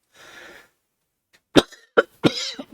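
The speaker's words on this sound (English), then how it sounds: "Cough" A breathy exhale, then a pause followed by a few sharp, close coughs in quick succession.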